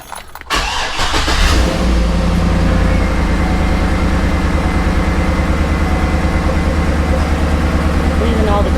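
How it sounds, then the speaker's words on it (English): A car engine turns over and settles into a steady, loud idle, a low continuous rumble running close by for several seconds. "Could we turn the car on?"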